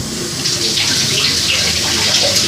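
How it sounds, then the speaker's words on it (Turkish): Running tap water pours steadily over vegetables that had already been washed, a continuous close hiss and splash rinsing them in a home kitchen sink before they go to the cutting board. "Yine de biz bir sudan geçirelim."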